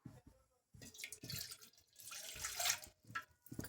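A glass of water poured into a pot on a stove, soft splashing and trickling in uneven bursts, fairly quiet and close.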